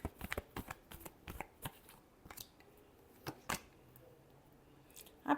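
Tarot cards are shuffled by hand, making a quick, uneven string of soft flicks and papery snaps. The sound is close and fairly faint, with short gaps and a sharper burst at the end.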